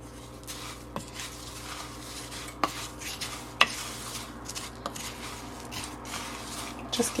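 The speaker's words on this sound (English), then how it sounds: "Just giving it a little mix." Ingredients are stirred in a bowl while cooking a simple healthy meal with no added oil, soft scraping and occasional light clinks of a utensil against the dish under a faint background hum.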